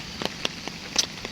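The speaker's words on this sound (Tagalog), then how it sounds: "Umuulan talaga siya." Light rain outdoors on a foggy day: sparse, faint drops tapping a nearby surface at irregular intervals, with no talking.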